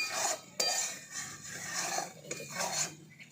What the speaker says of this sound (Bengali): আলুগুলো দিয়ে মশলাটার সঙ্গে আরও একটু ভালো করে কষে নেব